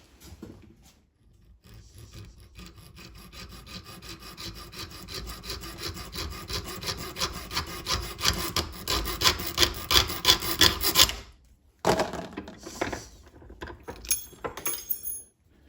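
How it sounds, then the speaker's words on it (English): A small model bumper piece for a Dinky Land Rover is filed down by hand in steady, rapid rasping strokes that build in loudness, pause briefly, then resume with a few closer scrapes. "I just have to grind this down a little bit or file it down a little bit so it fits on this U shape"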